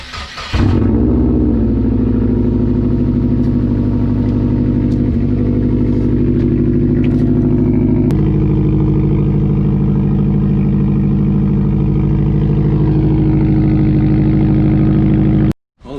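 A stock-downpipe Subaru WRX engine cranks and catches, then settles into a loud, steady rumbling idle with a slight rise partway through, close up and continuous until it is cut off abruptly near the end.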